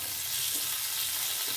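Pointed gourd and potato fry in oil in a pan, giving a steady, close sizzle with no voices over it.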